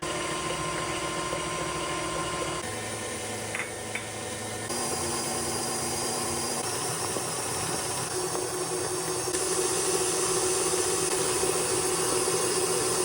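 Stand mixer on low speed whipping cream until it splits into butter and buttermilk for cheddar and chive scones, a continuous motor whir and hiss with shifting tone, steady and close, no voices.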